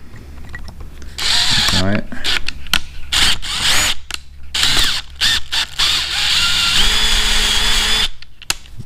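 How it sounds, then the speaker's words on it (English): An electric drill with a 1/8 inch bit whirs in repeated short bursts, drilling out screws on a 1983 Honda Shadow 750 clutch master cylinder, starting and stopping, with a brief spoken remark near the beginning. "This is an 1/8 inch drill bit."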